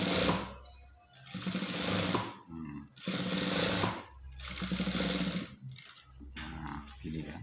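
An electric sewing machine stitches high-school uniform trousers while a slanted front pocket is sewn, running in four or five loud, close bursts of rapid whirring separated by short pauses.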